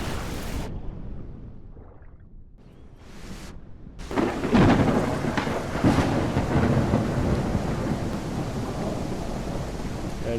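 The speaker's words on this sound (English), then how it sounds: "I wish I could just turn down the storm sounds." Video game thunderstorm with steady rain hiss and rolling thunder, quieter at first then swelling into loud, sustained rumbling with bursts of noise; no talking.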